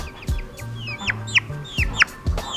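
Birds at a Manhattan bird sanctuary give a series of sharp, clucking calls close by, about half a dozen abrupt notes spaced irregularly over a low background hum.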